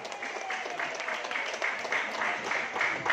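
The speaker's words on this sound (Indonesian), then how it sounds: "Tepuk tangan untuk kita semua dong." An audience at a marketing presentation applauds, a fairly quiet, continuous patter of clapping with a crowd murmur underneath.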